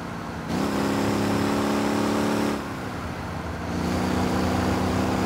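A biturbo 3.6-litre, 400 hp Kombi van engine in the Motor Town driving game, revving steadily and accelerating with a rising whine, a shift dip midway, then climbing again, loud and close with no talk.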